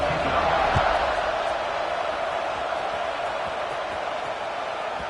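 Football stadium crowd at a Purdue at Arizona game just before kickoff, a steady broad roar of many voices filling the space, loud and continuous with a slight swell at the start.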